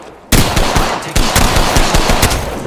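Rapid automatic gunfire from an Apex Legends match, loud and close, starting abruptly after a brief quiet moment and rattling on in dense bursts with no talk.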